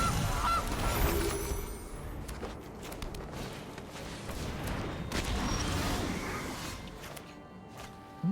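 A goose honk marks the Gilded Goose card being played in the MTG digital card game, with several loud honking calls over busy game effects and rumbling.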